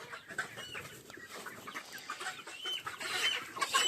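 Sonali chickens cluck and squawk on a farm as they are caught and bagged for sale, a busy overlapping chorus of agitated calls that grows louder toward the end, no speech.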